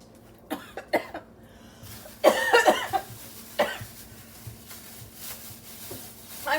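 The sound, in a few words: coughing from spicy food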